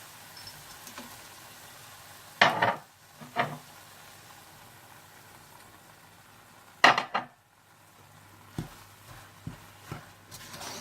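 Spoon clatters against a pot while dry nuts and milk powder are stirred into gram lentil halwa, a few sharp metallic scrapes and knocks in separate bursts with quiet pauses between, no talk.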